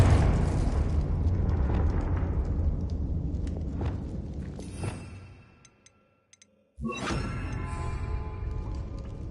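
Confringo blasting spell detonating in Hogwarts Legacy: a loud, rumbling explosion that decays over several seconds, falls to near silence, then a sharp bright burst of magical impact with ringing tones.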